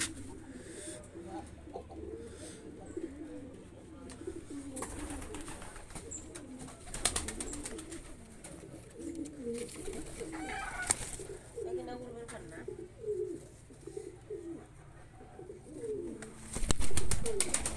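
Shirazi pigeons, including black ones, cooing softly in a loft in Dhaka, low repeated coos scattered through a quiet background, with occasional rustling, a louder burst near the end, and some talk.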